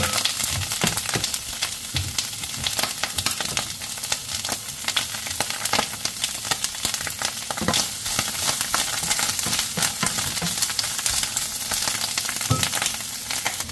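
Mushrooms sizzle and fry steadily in butter in a home kitchen pan, a dense, continuous crackle with frequent sharp pops and occasional stirring scrapes, close and fairly loud throughout.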